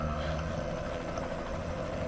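Helicopter in Metal Gear Solid V: Ground Zeroes, a steady low rotor drone and engine hum held at an even, moderate level with no voices.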